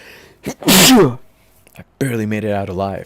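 A single loud, close sneeze bursts out sharply after a brief intake of breath, followed by a pause and then people talking.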